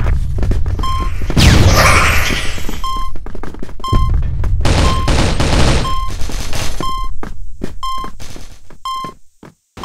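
In the video game CrossFire, a frag grenade explodes with a heavy boom amid rapid, loud gunfire bursts and repeated electronic beeps, ending in scattered shots.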